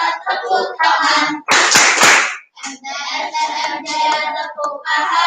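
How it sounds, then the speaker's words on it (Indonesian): Madrasah students clap their hands together in a brief, loud burst of several sharp claps during a school orientation activity, set between stretches of group chanting or singing voices. "bersama-sama kita tepuk tangan."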